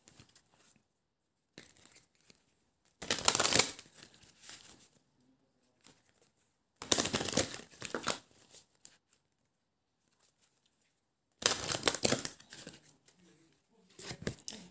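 A tarot deck is shuffled and cards are drawn in three separate bursts of close, crisp riffling and flicking, with quiet pauses and soft handling noises between them and a voice heard at times.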